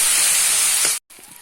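A splash of water hits a hot pan of fried ginger, garlic and turmeric, making a loud, steady hiss of steam that cuts off briefly and then settles into a quieter sizzle.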